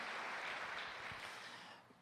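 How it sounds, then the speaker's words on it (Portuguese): A church congregation claps for the Lord, a short dense burst of applause at moderate loudness that gradually fades away. "Aplauda o Senhor, graças a Deus."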